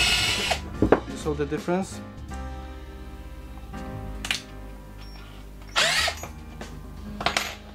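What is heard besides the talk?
IKEA FIXA cordless screwdriver drill running in different gears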